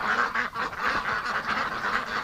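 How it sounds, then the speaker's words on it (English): A Muscovy drake and a goose squabble outdoors in winter, giving harsh, raspy honks and hissy quacks in quick, overlapping bursts. The calls are fairly close and moderately loud, with no talking. "That Muscovy keeps trying to mate with that goose."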